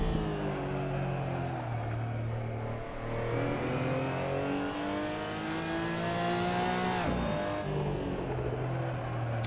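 A racing car engine held at full throttle in a sim racing game, a loud steady drone with rising and falling pitch through gear changes and a brief lift near the end, with no voices.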